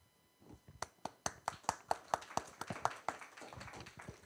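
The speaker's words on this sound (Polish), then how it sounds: "Wymusiłem na Państwa troszeczkę te brawa" A small audience claps at a talk on war reporters, with sparse, distinct hand claps building into a brief, loose patter of applause and no voices over it.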